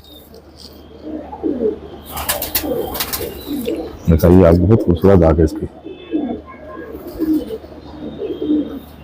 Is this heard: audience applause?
no